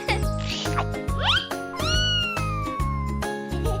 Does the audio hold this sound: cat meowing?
yes